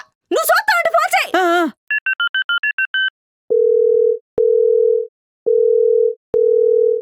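A telephone call being placed: a short burst of voice, then a quick run of dialing beeps, followed by four evenly spaced ringback tones with silent gaps, loud and clear.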